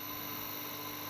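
A three-phase electric motor, started through an inverter and a single-phase transformer stepping down to 110 volts, gives a faint, steady electrical hum with sustained tonal whine for a brief moment.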